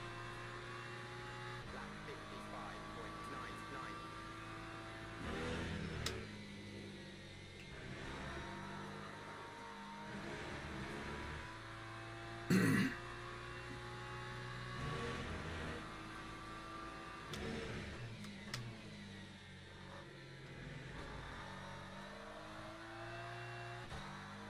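A race car engine in Le Mans Ultimate climbs and falls through the gears under throttle, its steady harmonic whine rising in pitch between upshifts, with a few sharp transient clicks and one loud burst midway.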